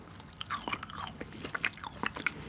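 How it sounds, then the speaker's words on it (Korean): Crisp crunching bites and chewing on fried garlic from a Burger King Stacker 4 Double White Garlic Whopper, close and distinct, with irregular snappy crackles repeating for a couple of seconds. "튀김 마늘 먹어볼게요."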